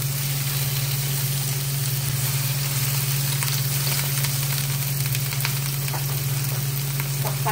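Tofu still holding some water fries loudly in a hot pan, crackling and spitting continuously under a steady low hum throughout, with no talking.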